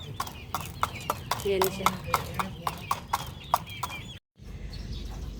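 A Schooling Gray mother hen resting in a backyard with her chick gives a steady run of soft, rhythmic clucks under a person talking nearby.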